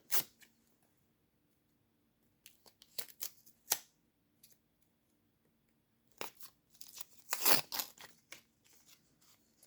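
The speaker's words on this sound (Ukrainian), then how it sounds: "Відкриємо перший пакетик." Crinkly plastic rustling and tearing in short bursts separated by quiet pauses, close by, with a louder crackling burst near the end.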